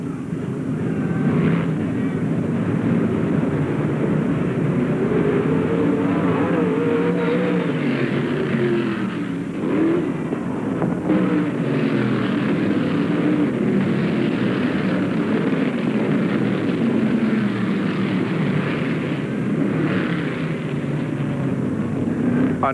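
Sprint cars race on the dirt track at the Tampa Fairgrounds in 1975, a steady, loud engine roar that swells and fades as cars pass, heard with no talk over it.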